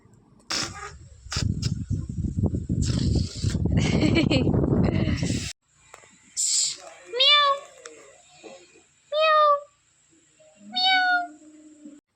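A young kitten meows several times in short, rising calls near the microphone, after a stretch of rustling and handling noise at the start.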